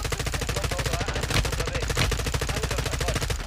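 Rapid automatic gunfire in Call of Duty Warzone 2.0, a dense continuous stream of close, loud shots with a couple of heavier bursts, with faint voices beneath.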